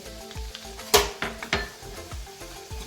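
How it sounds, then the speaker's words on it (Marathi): Refined flour (maida) is roasted in hot ghee in a pan with a steady crackling sizzle, broken by sharp scraping and clinking knocks as a spoon stirs it. "छान असं हलवत हलवत छान खरपूस असा हा मैदा भाजून घ्यायचा आहे"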